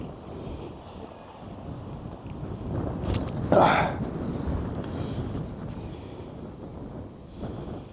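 Steady wind buffeting a microphone in Playa Blanca, Lanzarote, a low continuous rumble with a stronger gust in the middle, no voices.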